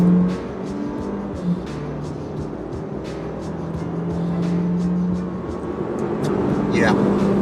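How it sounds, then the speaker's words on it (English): A 2020 Fiat 500X engine roars steadily in the cabin as it accelerates hard with two people aboard at high altitude, the revs building over several seconds, with voices talking over the drone. "I'm going to give it a little bit of acceleration"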